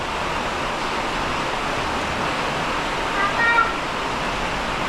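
Heavy rain pours steadily outside during the first rain of the season, a dense continuous hiss that holds an even level throughout, with a brief faint chirp near the end.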